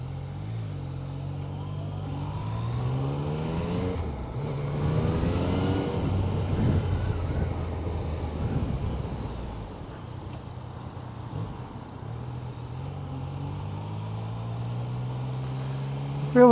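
A Yamaha Tracer 900 motorcycle engine is heard while riding on back roads. The engine note climbs and drops through several gear changes, and a steadier cruising hum carries on underneath steady wind noise.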